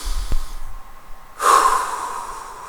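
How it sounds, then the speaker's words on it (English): A deep breath drawn in and let out, starting with a short snort-like sniff, then a broad breathy exhale swelling loudly about halfway through and slowly trailing off, close and alone with no talk. "you can take a deep breath"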